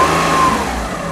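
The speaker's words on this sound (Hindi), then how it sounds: "चलिए गाड़ी को हल्का सा एक्सेलरेट करके देखते हैं।" Used car engine lightly accelerated, a steady mid-pitched rev close by, loud and continuous with no talk over it.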